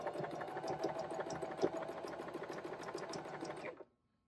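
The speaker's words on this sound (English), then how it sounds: "we're gonna switch it to a zigzag stitch." A JOANN beginner sewing machine sews a zigzag stitch in a steady, fast mechanical whir with a regular clatter of the needle. It is close and even, then stops abruptly near the end.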